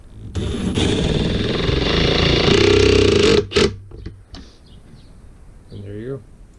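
A cordless drill spins a pocket screw into a scrap plywood board, a loud steady whir for about three seconds ending in a sharp stop, followed by brief clatter and quiet handling sounds.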